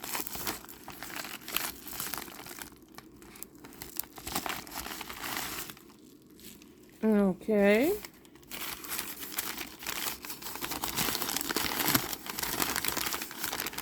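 A paper sack crinkles and rustles steadily throughout, close up, while wrapping a Dooney & Bourke accessory, with a brief voice partway through.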